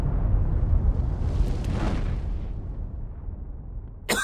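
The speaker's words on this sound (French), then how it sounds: "Toute une explosion!" A cartoon explosion amid earthquakes roars as a long, dense, rumbling blast that slowly thins and fades, followed by a short sharp sound at the very end.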